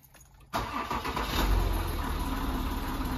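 A car engine with an engine warning light on cranks and catches abruptly, then settles into a loud, steady idle with a low rumble, close by and with no voices.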